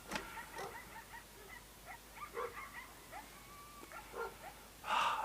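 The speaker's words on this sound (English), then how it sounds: "Enjoying some chili and rice while the dogs are out there barking." Dogs outside bark and yip at coyotes, a scattered run of faint, distant calls against a quiet background, ending in a louder burst.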